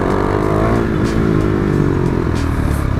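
A KTM 390 Duke motorcycle revs hard in second gear for a clutch-up wheelie, a loud, close, continuous engine roar whose pitch rises and falls, with no talking.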